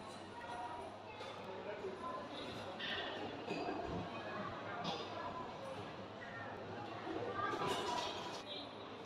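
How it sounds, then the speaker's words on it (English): Model trains run around a computer-controlled DCC miniature railway layout built with Metcalfe card kits, giving a steady, fairly faint rolling rumble and clatter that carries on without a break. "allows the trains on the layout to swap over out of sight of the viewer and take turns travelling around the layout"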